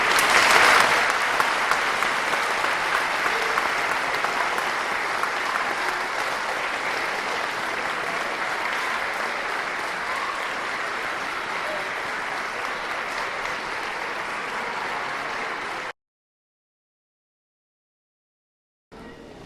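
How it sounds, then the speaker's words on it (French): Sustained audience applause, loudest at the start and then holding steady as a dense wash of clapping for about sixteen seconds, followed by a sudden cut to silence and a brief return at the very end. "Allez-y, applaudissez."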